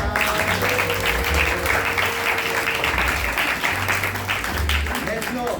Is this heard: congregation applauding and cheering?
yes